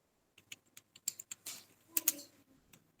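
Entering data in Tally on a computer keyboard: a burst of close, crisp keystrokes, single taps at first and then a quicker cluster, in a quiet room with no talk.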